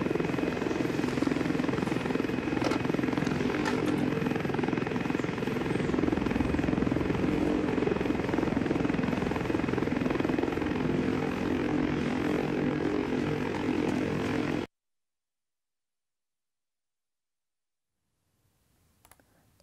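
A loud, steady helicopter roar with rotor chop fills the scene for about fifteen seconds, then cuts off abruptly to near silence.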